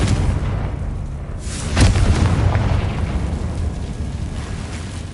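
The Confringo explosive spell in Hogwarts Legacy bursts with a sharp booming blast, then a rumbling roar fades out over the next few seconds against a continuous low background.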